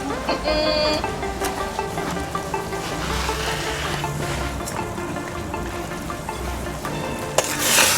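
Sauce of carrot, scallion, thyme, paprika, onion and butter frying in a pan outdoors, a steady close sizzle with occasional stirring scrapes and knocks, and brief talk in the background.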